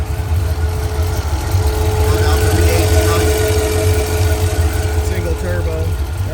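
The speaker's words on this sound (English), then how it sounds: "Single turbo LS swap 73 Camaro." A single-turbo LS-swapped 1973 Camaro cruising a San Mateo boulevard at night gives a deep, steady low-pitched engine rumble with slight lumpy pulsing, loud and close, accompanied by faint whine and background street noise.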